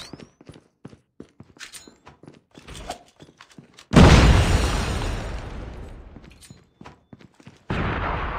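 A fragmentation grenade detonates in a competitive bomb-defuse shooter match, a sudden loud blast that rolls into a long decaying rumble, followed by a second burst of gunfire-like noise near the end, with sparse clicks and footsteps beforehand.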